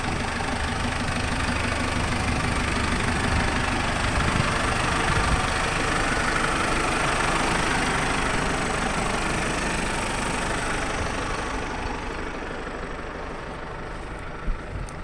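A McCormick tractor engine idling steadily in a hayfield during wet-hay baling, a loud, continuous close-up rumble with a constant knocking texture and no pauses.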